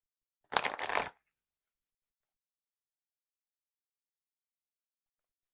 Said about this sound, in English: Let me give it one good shuffle.